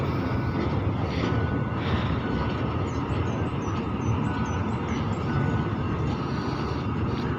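Continuous loud rumble and rattle of Thai express train 633 rolling along the tracks as it moves from a second track onto a single track, steady throughout, with faint high squeals from the wheels partway through.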